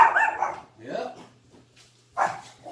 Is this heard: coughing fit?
no